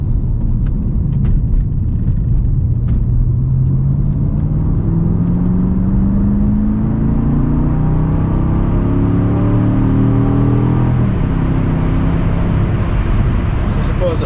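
A Volvo S80 V8 Sport AWD accelerates from inside the cabin, its engine droning loud and close as the pitch climbs smoothly through gears, then falls back near the end, under a voice talking at moments.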